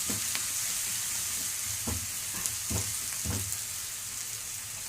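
Onions sautéing in a pan give a soft, steady sizzle close by, with several distinct scrapes and taps of a spoon stirring at uneven intervals.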